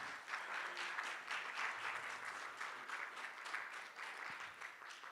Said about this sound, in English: Would you please give a round of applause for Little Rock Peaceful Palestine for their work?